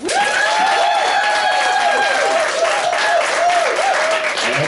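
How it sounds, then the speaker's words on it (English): A crowd applauds Mike Murray as he comes to the stage, with loud, sustained, even clapping and a voice talking over it. "Don't interrupt let the applause naturally die down."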